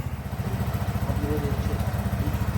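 A repaired motorcycle engine runs close by with a steady, rhythmic low chugging pulse throughout.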